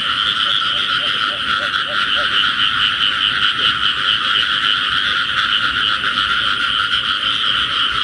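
Frogs croaking steadily at night in a rice field during an early-season frog hunt, a dense continuous chorus of many calls close by, loud and unbroken throughout.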